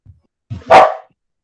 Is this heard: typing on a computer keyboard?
no